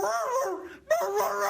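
A police officer imitates a barking dog with his voice, giving a drawn-out whining, yelping call, a brief break, then a second bark-like howl, clear and close.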